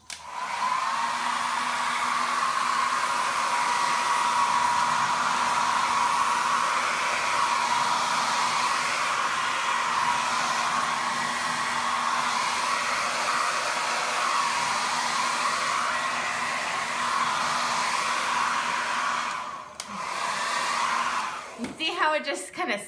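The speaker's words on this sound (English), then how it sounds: "just squirting and blowing with the hairdryer" A hair dryer blows steadily for about twenty seconds, pushing wet paint across a wine bottle, a loud constant whooshing drone that cuts off near the end with a few handling knocks.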